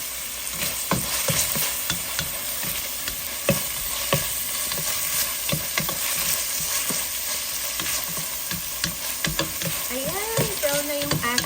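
Ground beef sizzles steadily in a pan for a Filipino ginisang patola dish, with repeated scraping and stirring strokes from a utensil over the constant frying hiss.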